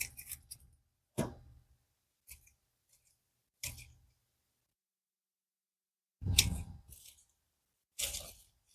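Pruning shears snip through mum stems in a garden cleanup, giving a series of crisp, close cuts. The cuts come in irregular bursts with silent gaps between them.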